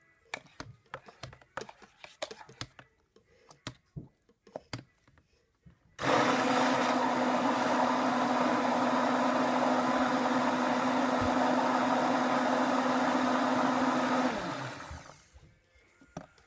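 Peppermint soap batter is mixed with a blender that starts abruptly after some light clicks and handling sounds, then runs loud and steady with a constant whirring hum for about eight seconds before winding down.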